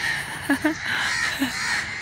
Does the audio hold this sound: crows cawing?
yes